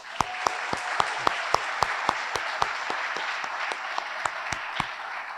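A crowd at a lacrosse awards breakfast applauds steadily, with a few sharp, distinct claps standing out above the continuous clapping.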